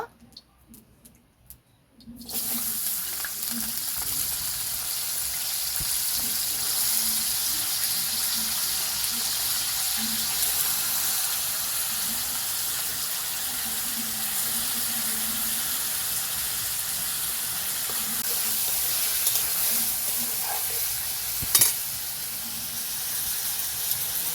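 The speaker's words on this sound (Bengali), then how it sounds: "আলুটাকে ভেজে নেব।" Potatoes frying in a pan for a vegetarian banana-flower curry (mochar ghonto) give a steady, even sizzling hiss that starts abruptly after a brief quiet moment and runs on unbroken, with faint clinks and bubbling beneath.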